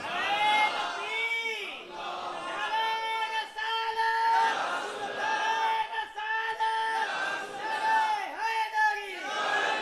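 A large crowd at a religious gathering chants a religious slogan in loud, rhythmic unison, repeated call-and-response phrases rising and falling over about ten seconds.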